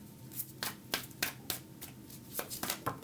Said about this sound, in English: That's why I'm going to keep shuffling here.